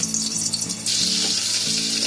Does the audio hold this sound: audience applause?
no